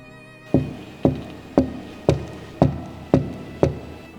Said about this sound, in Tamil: இவன் ஜன்னல் ஏதோ தட்டுற சத்தம் கேட்குது